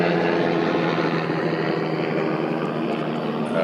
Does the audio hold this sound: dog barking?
no